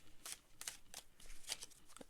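A tarot deck is shuffled quietly up close, with several short, separate papery riffles spaced about half a second apart against a faint background.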